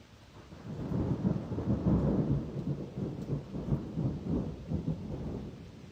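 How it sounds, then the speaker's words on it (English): Rain falls steadily on a summer's day while thunder rumbles low and long, swelling to a peak near the middle and then rolling on more softly. "The sound of rain on a summer's day."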